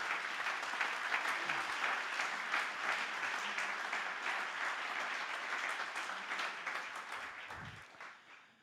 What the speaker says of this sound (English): So give them a warm applause.